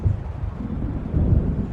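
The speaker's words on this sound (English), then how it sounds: "It seems there's a storm coming." Low rolling thunder from an approaching storm in Alan Wake Remastered, a deep continuous rumble that swells twice, loud and heavy in the low end, with no other sounds over it.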